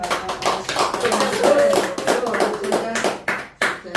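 Applause from a small group, dense clapping that rises and falls, with voices mixed in underneath.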